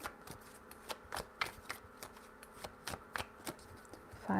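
Tarot cards being shuffled by hand at close range: a steady run of soft, papery riffles and slaps, repeated about a dozen times in uneven bursts, quiet and with no voices.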